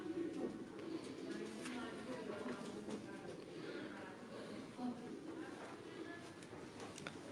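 Pigeons kept by a pigeon fancier coo softly and repeatedly nearby, half buried under continuous close talking by people.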